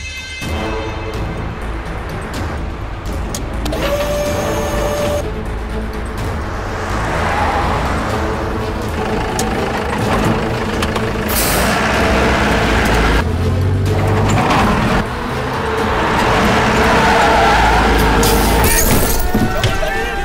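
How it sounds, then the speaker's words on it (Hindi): A car pulls out of a garage, its engine and road noise rumbling steadily for a long stretch, with people talking over it throughout. "गाड़ी गैरेज से निकल गई है।"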